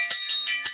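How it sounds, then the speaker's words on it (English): A new boxing ringside bell rings out at a fight show, three or four quick, bright metallic strikes in rapid succession, close and ringing with a lingering tone, no talk over it. "I just love the pitch on this new bell."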